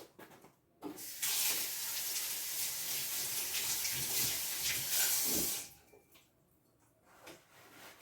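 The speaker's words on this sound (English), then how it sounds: "go wash my hands." Hands being washed under a running kitchen tap: a steady, close splash of water starts after a second, runs for about five seconds, then stops, followed by faint handling noises.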